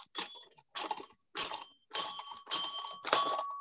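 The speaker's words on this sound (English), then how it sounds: "I put the bell here, and I have another bell." Small bells on a handmade sound automaton built from an alarm clock ring in six quick bursts at a steady rhythm, each a short metallic jangle with a bright ringing tone, close and clear.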